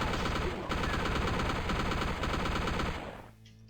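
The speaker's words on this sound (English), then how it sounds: "Maybe at this distance a chain gun." Chain gun firing continuously in the video game DOOM, a loud dense rapid rattle of shots that runs without pause for about three seconds before cutting off.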